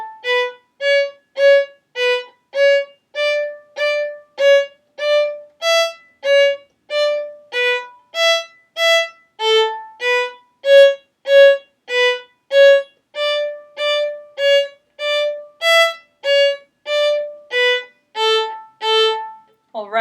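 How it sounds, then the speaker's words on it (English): A bowed string instrument, likely a violin, plays a steady run of short, separate bow strokes, each note clearly detached with rhythmic gaps, close and solo with no talking. "Was I playing with nice short bow strokes?"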